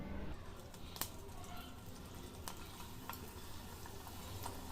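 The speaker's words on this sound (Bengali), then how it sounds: "এবার আমি কুতুম্বির বড়িগুলো দিয়ে দেব।" Coriander leaf vadis (kothimbir vadi) frying in hot oil in a pan on a gas stove, giving a steady close sizzle with occasional sharper pops and crackles throughout.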